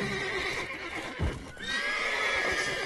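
Horses in The Witcher III neigh and whinny repeatedly, their high drawn-out calls rising over a steady ambient bed, with a brief low thump near the middle and faint hoof clops.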